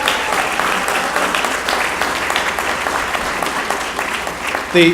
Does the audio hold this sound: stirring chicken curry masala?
no